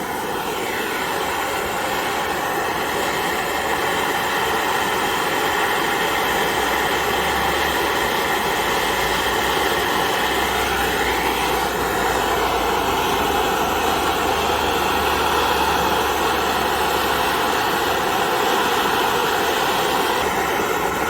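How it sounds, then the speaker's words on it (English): A torch flame heats a nut to free a broken bolt beside a tire. It gives a loud, continuous roaring hiss that holds steady for the whole stretch, with no voices. "You want to have the angle of the flame covering as much area as of the nut as possible."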